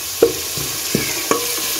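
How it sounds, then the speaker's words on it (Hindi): Onions frying in ghee in a pan for a chana dal fry fill the clip with a steady close sizzle, broken by three brief scraping knocks of stirring. "घी डाल के प्याज डाल दिए। तो इनको प्याज को अच्छी तरह भूनूंगी।"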